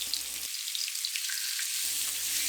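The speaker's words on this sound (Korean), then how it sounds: "대파 흰 부분을 넣고 30초 정도 볶아요." Green onion whites frying with pork belly in a pan, a bright steady crackling sizzle heard close and alone.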